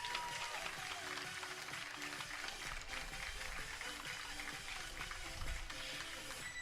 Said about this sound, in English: One more round of applause for the 2022 Ouachita Baseball Senior Class.